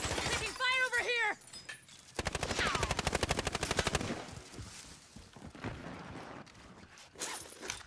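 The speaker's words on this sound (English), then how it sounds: "Taking fire over here!" Gunfire in Call of Duty Warzone: a fast, rattling automatic burst of evenly spaced shots, fairly close and loud, followed by scattered shots and noisy action, with voices talking over parts of it.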